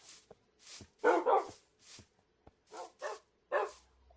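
Dogs barking in modded Minecraft, a series of short, clipped barks and yips spaced irregularly, fairly close and clear against near-silence.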